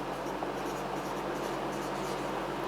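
Steady scratching of a pen or marker writing out a maths lesson, close and continuous against a constant hiss.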